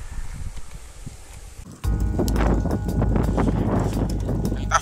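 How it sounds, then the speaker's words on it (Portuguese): Wind rushes past on a mountain bike road ride from Uberlândia to Indianópolis, Minas Gerais, at first a softer hiss, then abruptly a loud, sustained buffeting roar against the microphone that lasts to the end. "o vento tá soprando"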